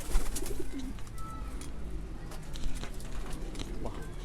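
Pigeons in a loft give soft, low cooing that runs through the whole stretch, with faint wing flutters and scuffling. It sounds close but muted, and scattered clicks and bird noises fill the background.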